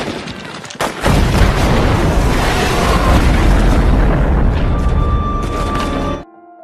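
A huge explosion erupts and rumbles on for several seconds, loud and close, then cuts off abruptly.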